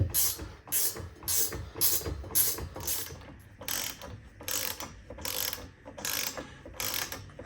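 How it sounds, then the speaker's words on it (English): A ratchet tightening roof rack bolts on a GX470, with a steady series of about a dozen close, crisp clicking strokes in a regular rhythm, no talking. "On the front, I used a ratchet."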